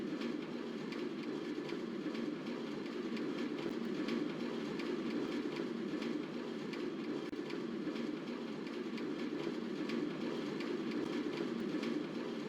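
Steady interior train-ride ambience from a Minecraft build imitating a train in APRP: a continuous low rumbling drone with faint rhythmic clicks, even in loudness and with no talking.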